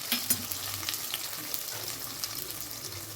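Vegetables and ingredients for avaraikai puli kulambu sautéing in a pan with curry leaves, a close steady sizzle broken by a few sharp stirring clinks and scrapes, with no voices.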